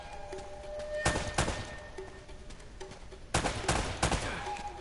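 Gunfire in the video game Uncharted: Drake's Fortune, two loud clusters of rapid shots about two seconds apart, sharp cracks over a low background of game ambience and music.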